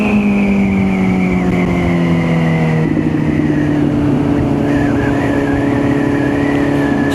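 A Kawasaki Z900 motorcycle rides at night through Milan, its engine droning loud and close with a steady pitch that drops as it shifts, then settles into a sustained cruising hum.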